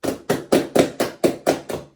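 Cupped hands clapping in a steady reggae body-percussion rhythm, eight hollow, resonant claps evenly spaced and close up, with nothing else heard.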